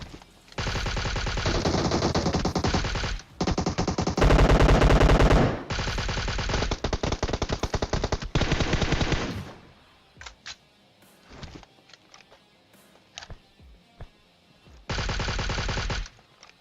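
Automatic gunfire in the mobile battle royale game PUBG Mobile: several long, loud, close bursts of rapid shots in quick succession, then scattered single shots and clicks before a final burst.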